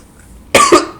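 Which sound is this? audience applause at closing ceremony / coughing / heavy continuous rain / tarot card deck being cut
coughing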